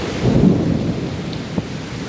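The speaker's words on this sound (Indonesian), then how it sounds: "Nah, ini cuaca hujan sangat deras sekali ya teman-teman." Heavy rain pours down in Hong Kong with a deep roll of thunder swelling early and fading, over a constant close hiss of downpour on surfaces and a brief knock near the end.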